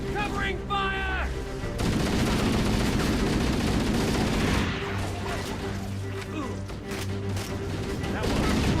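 Sustained gunfire from a battle in the Halo Anniversary video game, dense overlapping bursts and booms running almost the whole time alongside game music and voices.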